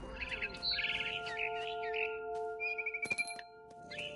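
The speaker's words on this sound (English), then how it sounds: "Then I heard chirping outside my window. It was a barn swallow going back to her nest." Barn swallow chirping in What Remains of Edith Finch: bright, rapid twittering calls and trills repeat over a steady low game-music drone, with a quick run of sharp chirps near the end.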